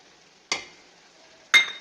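Masala for chicken pickle stirred in a pan, heard as two short scraping, sizzling bursts about a second apart over a faint steady background.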